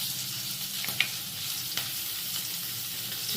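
Bay leaf, chopped ginger, garam masala and chili frying in oil after egg, a steady close sizzle with a couple of light utensil clicks and no voices.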